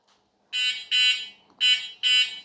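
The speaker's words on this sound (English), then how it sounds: "And we have a horn." An ARVALA C PRO electric scooter's horn sounds four short electronic beeps in two pairs, shrill and buzzy, moderately loud and close, with nothing else heard.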